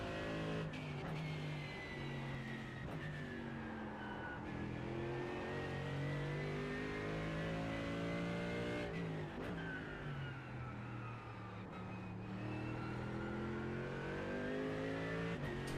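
Mercedes-AMG GT3 race car engine in the iRacing sim at a rainy Imola, droning loudly and continuously as revs rise and fall through gear changes, with brief dips where the throttle lifts and a steady, near, full-volume tone throughout.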